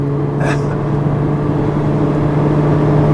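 A 2015 Mercedes-Benz GLA 45 AMG hums with a steady, low engine drone while driving, loud and constant, with a brief sharp blip near the start.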